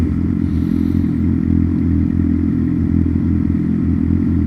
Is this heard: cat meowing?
no